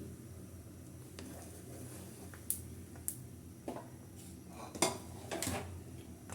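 A spoon stirs mango pickle spices in hot oil in a pan, giving soft, scattered metallic scrapes and clinks at a low level with no talking.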